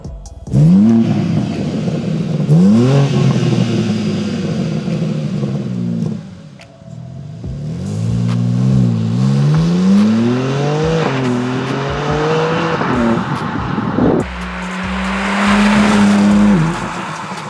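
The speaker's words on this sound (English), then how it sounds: "let's do some sound clips of the car. We'll let you hear what it sounds like" A loud BMW F80 M3 sports car engine revs and climbs through the gears repeatedly, rising and falling pitch, with a brief lull before roaring again nearby.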